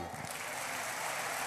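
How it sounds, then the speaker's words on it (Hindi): Audience clapping at a devotional discourse gathering, a dense, steady wash of applause filling the whole moment with no pause. "ताली बजाओ इनके लिए।"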